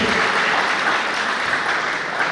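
Steady, dense applause from the audience at an all-India poetry gathering, many hands clapping evenly throughout, loud and close with no voices over it.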